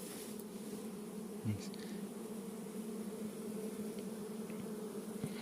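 A honeybee swarm of about four kilograms hums in a steady, low, even drone, with faint individual bees passing nearby.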